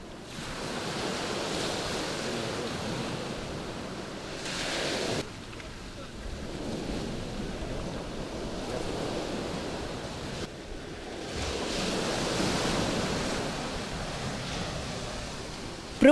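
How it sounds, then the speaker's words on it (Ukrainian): Ocean surf rolls in a steady roar during a diving exercise at sea, with wind buffeting the microphone and brief dips between surges. "При виході з води Марію збило хвилею"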